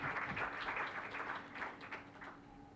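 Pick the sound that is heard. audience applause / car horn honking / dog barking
audience applause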